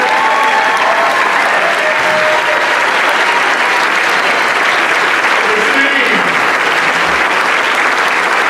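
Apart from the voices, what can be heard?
audience applause for the mayor-elect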